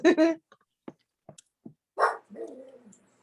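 A pet dog indoors gives a string of short yips and barks, then a longer whining bark, close and fairly loud, with a brief human voice at the start.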